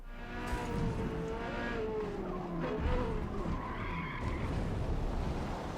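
A race car in Forza Motorsport revs and skids with squealing tires off the circuit, a loud, sustained engine whine with sliding screeches and pitch sweeps, heard alone with no voices.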